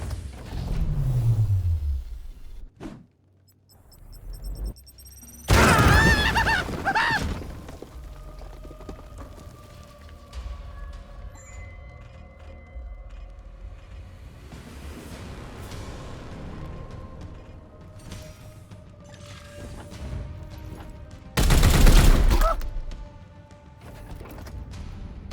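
In the Warhammer 40k: Chaos Gate Daemonhunters video game, gunfire tears through cover with heavy bursts of crashing impacts and rumbling debris, loud and punchy against quieter game ambience and tones.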